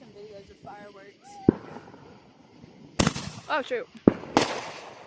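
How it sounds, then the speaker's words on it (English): Fourth of July fireworks burst overhead in several sharp, loud cracks and booms, some close together, while people nearby talk and exclaim between the blasts. "I promise to take some videos of fireworks."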